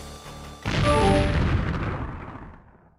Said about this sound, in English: You are highly startled by the totally unexpected explosion.